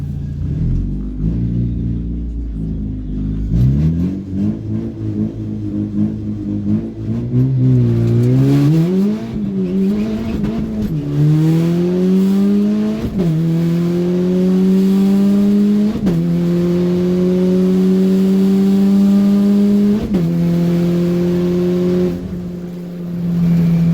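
A car and a minivan launch side by side in a bracket drag race at an import event, engines roaring as they rev up through a run of rising pitch sweeps broken by gear shifts, loud and close, with no talking.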